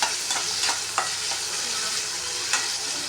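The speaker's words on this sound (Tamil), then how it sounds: "பாருங்க, வெங்காயம் போடுறேன். இது நல்லா வணங்கணும்." Onions sizzle steadily in a pan while being stirred, with a few soft scraping strokes over the continuous frying hiss, close and with no talk.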